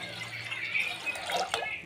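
Water pouring into a cooking pot on a lit gas stove, a steady close splashing stream with a few brighter drips toward the end.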